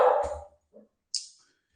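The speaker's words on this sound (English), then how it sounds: "I'm sorry about the dog" A dog barks close by, one loud bark followed by a short soft whimper and a higher yip, with no talk over it.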